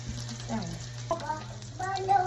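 Garlic and onion fry in a pan for chicken tinola, a soft sizzle with stirring while voices speak in the background.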